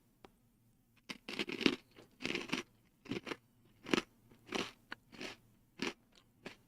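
Close, crisp crunching of Snyder's of Hanover Sourdough Nibblers pretzels, about a dozen sharp bites and chews in an irregular rhythm, airy and brittle, with no talking.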